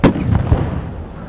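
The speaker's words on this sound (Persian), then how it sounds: "توپ که شلیک میکنه بهشون" A single cannon shot booms out sharply, followed by a rolling rumble and echoing reverberation that fades away over about a second.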